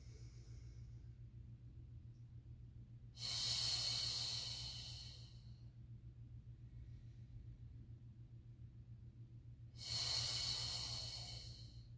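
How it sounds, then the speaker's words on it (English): Two long, breathy exhales spaced several seconds apart, close and hissing, over a low steady hum, during Pilates leg lifts; no words are spoken. "Inhale to lower, and exhale to lift."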